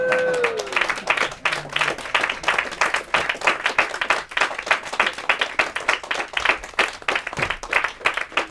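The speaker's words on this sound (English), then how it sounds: "A round of applause for Fraser." Steady applause from an audience, many hands clapping in a brisk, even patter that continues throughout at close range.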